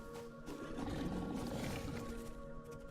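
Flying stingray creatures in the video game Satisfactory, a low rumbling roar-like creature growl swelling and fading over a few seconds, set against steady game ambience without speech.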